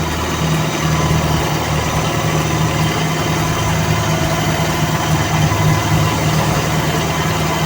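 A carbureted 2E car engine idles steadily nearby at around 800 to 1100 RPM, a loud, even mechanical hum with constant vibration and no talking.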